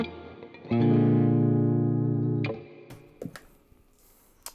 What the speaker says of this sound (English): Okay, distorted tones.